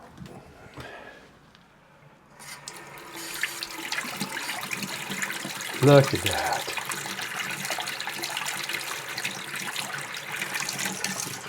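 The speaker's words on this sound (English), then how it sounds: "Turn on the water and check it." A bathroom sink tap runs after the drain is unclogged and reassembled: a steady, fairly close rush of water that starts partway through and keeps going, with a brief spoken remark over it.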